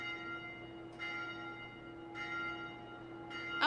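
A bell in Dark Souls 2 tolls three times at slow, even intervals, each strike ringing out over a steady droning game ambience, the last stroke louder and brighter.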